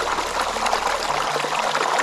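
A rain-swollen mountain stream at Gandharva Theertham in Tirumala, full after two days of rain, rushes and trickles over rocks in a continuous close wash with no voices.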